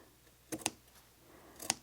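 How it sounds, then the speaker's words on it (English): Scissors trim excess fabric from a quilted mug rug, giving two quick pairs of crisp, quiet snips about a second apart over a faint, hushed background. "I've got my scissors here, so I'm just going to trim some of this back just a little bit, some of this excess."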